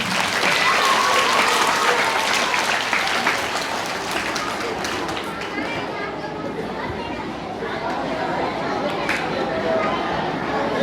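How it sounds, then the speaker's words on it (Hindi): Enthusiastic applause from a school audience at a magic show, mixed with lively chatter and children's voices, holding steady throughout. "एक बार इस छोटे से बच्चे के लिए और इन दोनों बच्चों के लिए दोस्तों जोरदार ताली"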